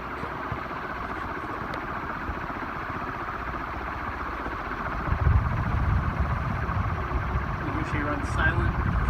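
A 56-inch Dayton industrial ceiling fan runs at high speed, giving a steady broad whooshing drone with a low rumble that grows louder and nearer partway through.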